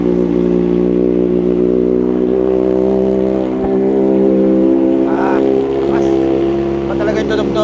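Kawasaki ZX-4RR motorcycle fitted with a full titanium exhaust idling and revving close by, a steady loud engine drone with a brief throttle blip near the end.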